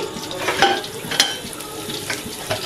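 Asafoetida frying in hot mustard oil in a wok, a close, loud crackling sizzle with a few sharp spoon clinks against the metal.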